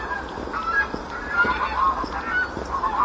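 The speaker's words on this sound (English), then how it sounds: "A goose." A goose beside the Shropshire Union Canal honks repeatedly in short, nasal blasts at an uneven pace, close and clear over quiet outdoor background.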